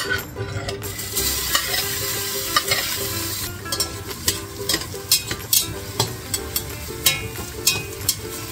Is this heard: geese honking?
no